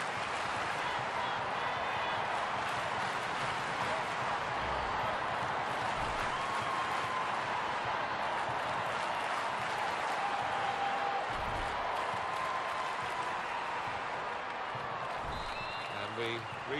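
In a PS4 women's World Cup football game between France and Canada, a stadium crowd roars continuously and loudly throughout, with a commentator talking over the noise.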